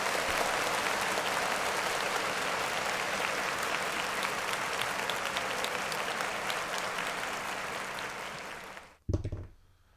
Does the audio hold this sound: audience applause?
yes